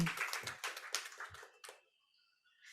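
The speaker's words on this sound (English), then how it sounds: "A big round of applause, everyone, for A+ Team and Academy." Audience at a partnership celebration event in Mumbai giving a short round of applause, a handful of sharp, close claps that thin out and stop within two seconds.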